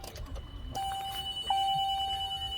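A phone ringing with a steady electronic tone that starts partway through and continues, fairly clear over a quiet background.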